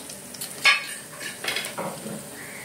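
Half an onion sautéing in a pan for a Maharashtrian Modak fish curry, with soft sizzling and a few sharp clinks and scraping stirs at close range, no voices.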